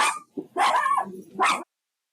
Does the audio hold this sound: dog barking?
yes